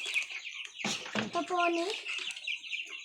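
Broiler chickens cluck and chirp close by in a dense, busy chorus. A person speaks briefly over them.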